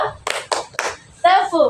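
Children clap three quick, loud claps in a classroom clap game, followed by brief voices speaking.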